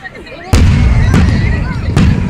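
Fireworks exploding in three sharp, loud bursts spaced about half a second apart, each followed by a crackling, rumbling tail that hangs in the air.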